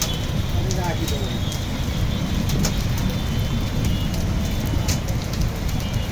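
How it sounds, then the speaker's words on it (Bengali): Heavy hail pours down steadily in a dense, unbroken roar, with sharper clatters of hailstones striking hard surfaces scattered throughout and faint voices underneath. "এত শিল পড়তেছে, দেখো কি অবস্থা।"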